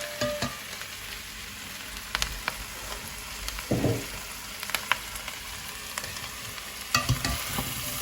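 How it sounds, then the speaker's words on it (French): Onions and rhubarb sizzle steadily in a frying pan, a continuous crackling hiss with occasional stirring scrapes and clatter, close and even throughout. "J'aime bien que ça chante dans la poêle, non?"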